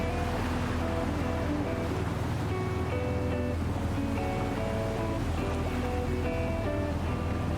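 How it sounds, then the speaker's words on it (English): Ocean waves wash steadily alongside a breeze in a Cyberpunk 2077 game scene, a continuous, fairly loud surf bed with soft plucked-string tones drifting over it throughout. "hearing the breeze and sway of the ocean"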